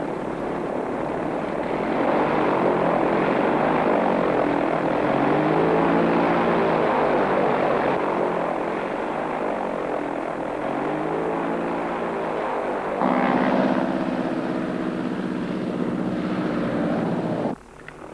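A propeller airplane engine drones steadily as the plane taxis toward a runway, a loud continuous hum with a slightly pulsing pitch that rises briefly near the end before cutting off.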